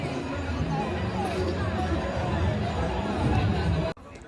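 Large crowd gathered for the Ganga aarti in Kashi, producing a continuous dense hubbub of many voices, chatter and movement close around, which cuts off abruptly just before the end.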